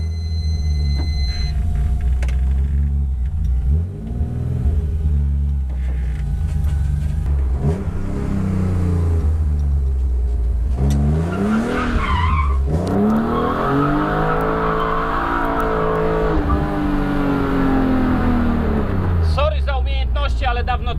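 BMW E36 with an M54B30 straight-six revving hard while drifting, engine pitch rising and falling in loud close sweeps, with tire squeal and a voice heard over it.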